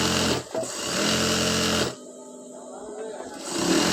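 A sewing machine whirs in steady bursts, stitching a double seam on a petticoat, with a pause where the motor stops and a quieter stretch before it picks up again.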